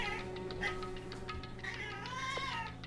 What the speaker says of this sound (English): And now she's meowing.